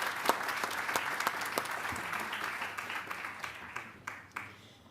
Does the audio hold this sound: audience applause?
yes